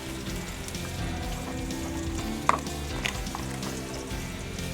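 Onion and tomato frying in a pan, a steady soft sizzle with light crackle and a couple of faint clinks from a spoon, quiet and continuous with no talking.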